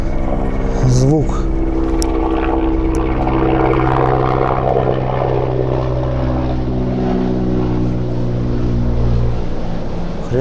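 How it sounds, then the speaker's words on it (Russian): A helicopter passing overhead, heard from inside an underpass tunnel as a loud, echoing low rotor drone that fills the space throughout, with a brief clatter near the start. "какой-то вертолет пролетел прям. Его уж в этом тоннеле слышно было"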